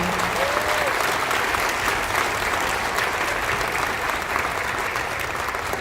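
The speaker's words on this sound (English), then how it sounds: "I just want us to give them a big round of applause" A school audience claps steadily for recognized students at a Native American student recognition event, a dense, even wash of applause from a sizable crowd that sustains throughout without a break.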